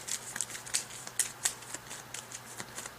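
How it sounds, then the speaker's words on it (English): A discard pile of Thunderstone Advance deck-building game cards shuffled by hand on a table: soft, quick ticks and riffling snaps in an uneven rhythm, close but fairly quiet, with no talk. "shuffle up my discard pile"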